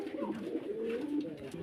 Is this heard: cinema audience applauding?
no